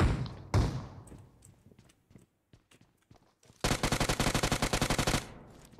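Automatic gunfire from a Battlegrounds Mobile India match: scattered single shots and short bursts, then a loud, dense rapid-fire volley of about a second and a half, near and alone.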